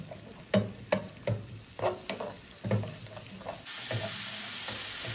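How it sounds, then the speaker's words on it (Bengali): Spice paste being sautéed with whisked sour yogurt for a Bengali brinjal curry: a steady sizzle with several sharp spoon scrapes and knocks against the pan in an uneven rhythm, close and clear, no voices. "এবার ভালো করে দইয়ের সাথে মশলাটাকে কষাতে হবে।"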